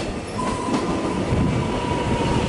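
A Melbourne Glen Waverley line train pulls into a station with a loud, steady rumble of wheels on rail, a faint brake whine held throughout, and no voices.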